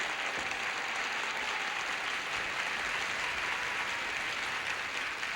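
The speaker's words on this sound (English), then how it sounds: "Let's have a nice round of applause for 2 good players" Steady applause from a 1979 Tic-Tac-Dough game show studio audience, a dense even wash of clapping that holds at a constant level throughout.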